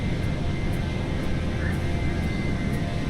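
A simulated airliner engine from Microsoft Flight Simulator drones steadily on a flight from Lyon to Tromsø, a constant broadband cabin hum with a faint repeating high tick, no talk.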